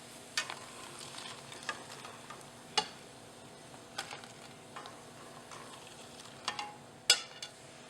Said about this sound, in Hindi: इसी तरह से हमें हमारी सारी करारी पूरी फ्राई करनी है।